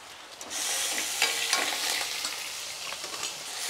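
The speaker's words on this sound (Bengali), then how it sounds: "মুগ ডালটা হালকা একটু ভেজে নেব যাতে কাঁচা গন্ধটা না থাকে" Washed mung dal frying in hot oil with five-spice in a wok: a close, steady crackling sizzle that swells as the lentils go in, then keeps hissing with faint stirring, no talk.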